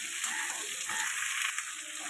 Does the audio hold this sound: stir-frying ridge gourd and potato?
yes